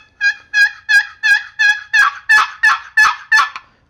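A turkey box call is worked in a hunting cadence: about ten evenly spaced, raspy yelps that start high and grow fuller and louder toward the end. The call is close and clear, with no voice over it.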